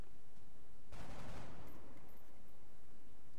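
A brief burst of gunfire from the video game X-Com erupts about a second in, a sharp rattling volley that fades within half a second against a quiet background.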